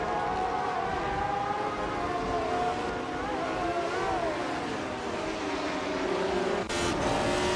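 A 1975 Parnelli VPJ4 Formula One race car howls through a continuous, loud engine drone whose pitch rises and falls as it accelerates and shifts, staying steady throughout without pause.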